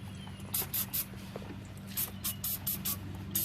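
Short, sharp aerosol spray bursts on the brake hardware of a 2003 Mercedes C230 in an irregular sequence, close up, over a low steady hum.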